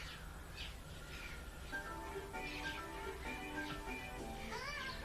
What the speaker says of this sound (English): There's some loud damn birds